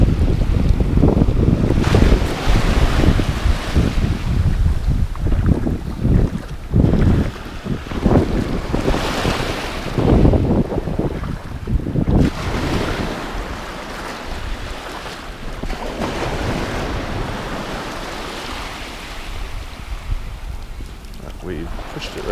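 Wind buffets the microphone at a beach while ocean waves wash and surge nearby during seashell hunting, loud and continuous, with a voice talking over it at times.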